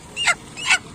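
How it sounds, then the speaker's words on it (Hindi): Desi village chickens at a rural poultry market, a rooster among hens, give two short, sharp squawking calls in quick succession, close and fairly loud, with no talk. "ये गांव का देसी मुर्गा है"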